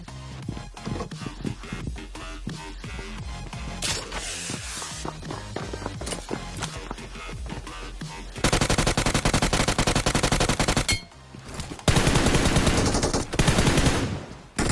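M4 rifle gunfire in a battle royale video game: bursts of rapid automatic shots and single cracks, growing into louder sustained fire with short pauses, alongside in-game footsteps and effects.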